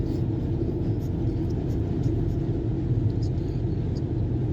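Steady, loud road rumble and engine drone from inside a car cruising at around 100 mph on the German Autobahn, continuous throughout without talk.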